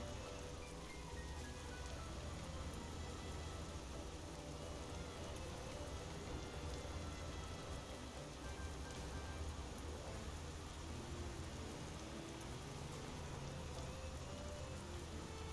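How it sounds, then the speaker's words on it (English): Steady rain falls in Euro Truck Simulator 2 while a truck drives through Finland toward Helsinki, a continuous fairly faint hiss of raindrops on surfaces with a low rumble underneath and no talk. "Love the rain."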